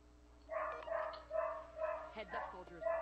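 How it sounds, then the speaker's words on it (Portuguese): A dog barks repeatedly in the video game Xera Survival, with rhythmic, mid-loud bursts spread across the moment over a steady game background hum. "Tem um cachorro aqui doidão latindo."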